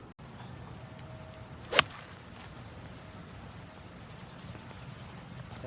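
A single sharp swish and crack as a golf club strikes the ball, a poorly struck shot during a professional tournament round, heard once against quiet outdoor background.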